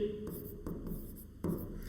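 Chalk or marker writing on a board during a class, a few short scratchy strokes with brief pauses between them, close and fairly quiet, with no talking.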